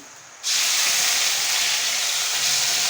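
Ginger-garlic paste drops into hot oil with a browned onion and turmeric base for pav bhaji, setting off a sudden, loud, steady sizzle that holds without a break.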